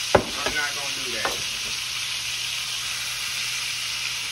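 Pork roast sears in a hot pot with a loud, steady sizzle and hiss, broken by a few brief scraping stirs near the start.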